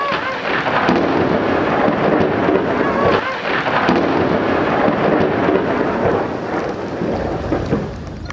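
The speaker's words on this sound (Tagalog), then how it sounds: "Patak na naman ang ulan, ano ang aming gagawin?" Heavy rain pours steadily over a fishpond with deep rolling thunder rumbling throughout, loud and close, no talking.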